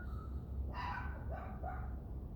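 Dogs barking outdoors in the wild, a few separate barks at moderate distance over a quiet background.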